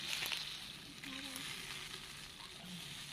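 Water is poured into a pan of fried fish cooking outdoors beside a pond. It produces a loud, steady hiss and sizzle that carries through the whole moment, with faint voices in the background.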